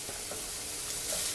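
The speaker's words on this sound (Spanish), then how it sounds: "voy a agregar la cebolla." Onion frying in hot oil gives a dense, steady sizzle with faint crackles, close and continuous for a moment, with no voices over it.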